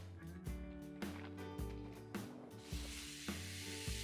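Fajita meat sizzles loudly on a hot grill, a steady hiss with occasional sharper crackles and clanks of utensils nearby.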